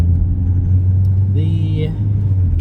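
A Honda Prelude rounds a tight roundabout, its engine giving a low, steady rumble close by while a voice talks over it.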